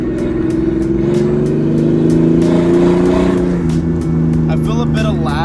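A Toyota Supra with a catless downpipe downshifts and revs, producing a loud, close, droning engine note that rises and falls and ends in a throaty burble, with a brief voice at the very end.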